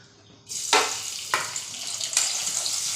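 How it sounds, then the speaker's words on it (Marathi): Garlic dropped into hot oil in a kadhai bursts into a loud, close sizzle that keeps frying steadily, with a few sharper surges as it is stirred for an egg bhurji breakfast. "कढईमध्ये तेल गरम केले पहिलं लसूण"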